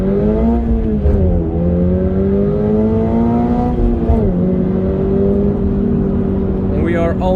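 A Toyota GR86 in track mode accelerates hard from inside the cabin, the engine note climbing steadily through the gear with a brief dip at a shift, loud and close, while someone talks over it.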